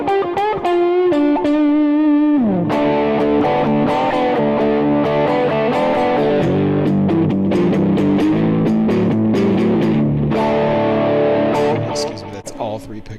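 An electric guitar, the grey Optimus primer prototype, played through bridge and middle pickups into a Route 66 overdrive gives a sustained, lightly distorted chord, then a run of overdriven notes and chords before fading near the end.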